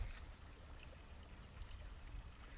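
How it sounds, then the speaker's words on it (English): A small waterfall beside a slick, muddy trail trickles faintly and steadily, a soft, continuous splashing heard from a short distance with no talking over it. "can you guys hear the waterfall? It's a little one."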